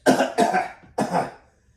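A man imitates coughing with his voice, three sharp, close coughs in quick succession with brief pauses between them, then silence.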